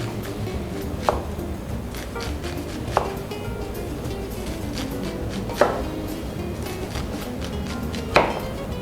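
A kitchen knife chopping an onion into small cubes on a board, with four sharp, irregularly spaced chops standing out over a low steady background hum, fairly close with no talking.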